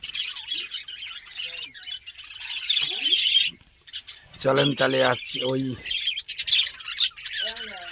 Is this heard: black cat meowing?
no